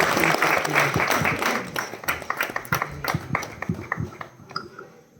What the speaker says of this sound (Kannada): ಸೊ ಒಂದ್ಸಲ ಜೋರಾದ ಚಪ್ಪಾಳೆ ಬರಲಿ.